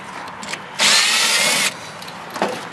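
A power drill runs in one steady burst of a little under a second while backing screws out of salvaged parts, with quieter handling noises before and after.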